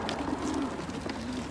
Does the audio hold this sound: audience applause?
no